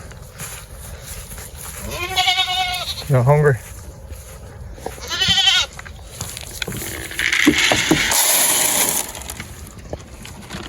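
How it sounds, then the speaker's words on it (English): Several goats bleat in wavering cries, a few separate calls spaced apart, close by, while a person speaks briefly and some crunching follows. "What's up, goats?"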